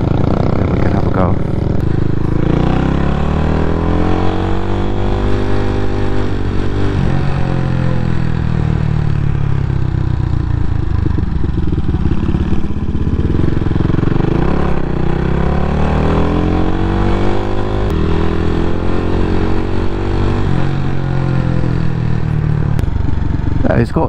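A CCM Flat Tracker Classic motorcycle accelerating repeatedly, its engine rising and falling in loud sweeping runs through the gears, close up with wind noise and a rider talking over it at times.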